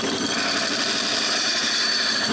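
A band saw cuts through styrofoam in a woodworking shop, a loud, continuous mechanical whine and rattle that stays steady throughout with no voices.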